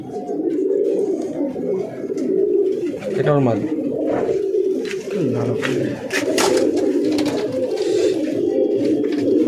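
Racing pigeons bred for tournament flying coo steadily in a loft, soft repeated throaty calls running throughout, with someone talking over them close by.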